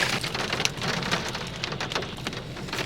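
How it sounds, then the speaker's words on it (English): Steady rain pours down around a person carrying a takeout bag holding a mushroom burger and hand-cut fries, a dense, continuous patter close by with scattered heavier drops and no voices. "This rain really trying to mess up my groove today"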